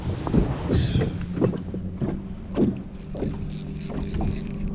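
Strong wind buffets a small fishing boat on a lake during crappie fishing, a steady loud rush of wind noise over the microphone with low engine-like rumble and repeated bumps and gusts, no one talking.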